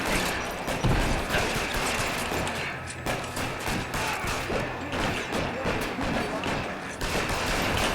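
Gunfire in the video game L.A. Noire, covering fire as a steady run of loud, sharp shots cracking across the whole stretch, dense and near, with a voice briefly underneath.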